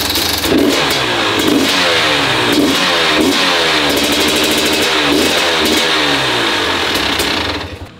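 A motorcycle engine running and being revved, a loud, close, continuous mechanical roar with repeated surges in throttle, cutting out abruptly near the end.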